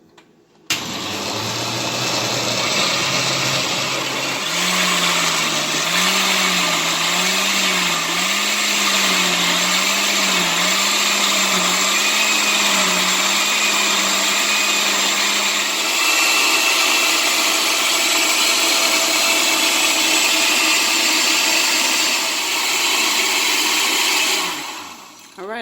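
A countertop blender runs continuously for about 25 seconds, whirring loudly while it purees a detox smoothie; its motor pitch wobbles and shifts partway through, then settles into a steady, close roar before it cuts off.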